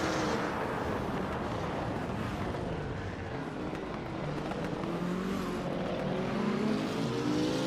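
2019 Ginetta G55 Super Cup race cars roar continuously in a racing video game, a loud, steady engine drone with rising and falling pitch as the cars accelerate and shift.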